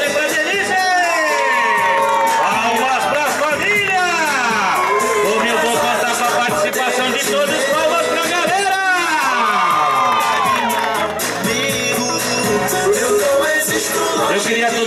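A crowd cheers loudly and continuously, with excited shouts and high whoops from many voices layered over one another.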